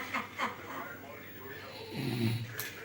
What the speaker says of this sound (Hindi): बुआ के खर्राटे कितने मज़ेदार हैं।